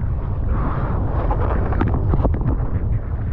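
Strong wind blows across the microphone on a beach by a harbor during wingfoiling, with breaking waves nearby, a loud continuous rumbling buffet and a few brief splashy bursts, no talking.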